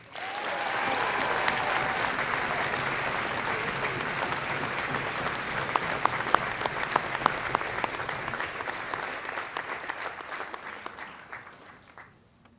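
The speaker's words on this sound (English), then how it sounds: "let's give a big round of applause to our two Citizenship Award winners from the class of 2021" A graduation audience at Hockinson High School gives a long, steady round of applause for award winners, a dense wash of clapping that carries for about twelve seconds, grows sharper and more distinct toward the end, then fades out.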